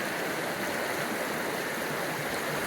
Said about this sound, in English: this is Tumalo Creek, about a half mile down south of Tumalo Falls